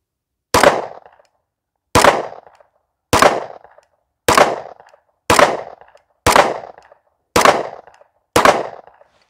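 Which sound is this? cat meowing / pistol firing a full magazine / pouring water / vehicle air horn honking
pistol firing a full magazine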